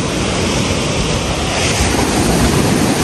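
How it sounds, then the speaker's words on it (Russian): Continuous roaring surf of winter sea waves breaking on a beach, loud and close, with buffeting wind noise over the microphone and no voices. "Волны, конечно, хорошие."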